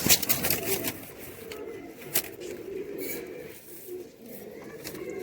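Teddy Sialkoti pigeons cooing softly in a loft, low murmuring coos over a busy background of rustling and scattered sharp clicks and flutters, fairly close.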